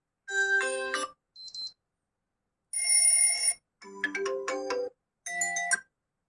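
Several short electronic ringtone melodies, preinstalled on a Redmi K50i phone, play one after another, bright and tonal, each separated by a moment of silence.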